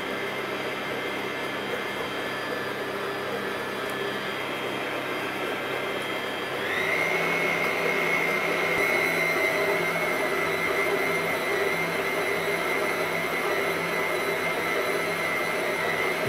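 A dough kneading machine churns dough with added cocoa powder, a steady close mechanical whir and hum that steps up louder about midway and holds there, with no voices.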